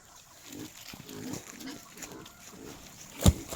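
Several short pig grunts come from a rural farmyard, low and rhythmic at moderate distance, followed by a sharp louder knock near the end, with no speech.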